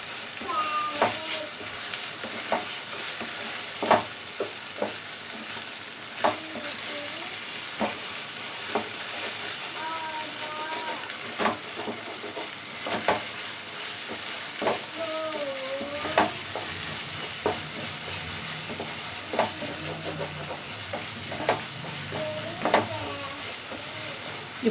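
Ginger paste fries in a pan with a continuous sizzle and regular stirring scrapes and taps, and a voice talks intermittently over it.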